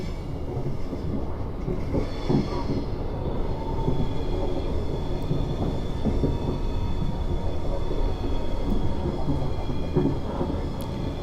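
A Class 444 electric train runs on a South Western route in Train Simulator 2017, a loud continuous rumble with rattling clatter and faint tonal whine, steady for the whole stretch without voices.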